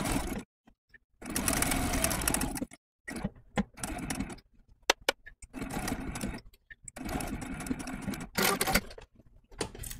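Sewing machine stitching appliqué onto a shirt, running in several close bursts of steady whirring separated by short pauses.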